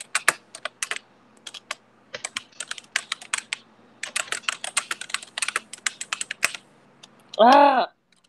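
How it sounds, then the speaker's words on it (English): Bursts of quick, clacky gaming keyboard typing close to the microphone, pausing briefly between runs, ending with a short voiced sound. "You're very noisy at typing, just saying. It's this keyboard."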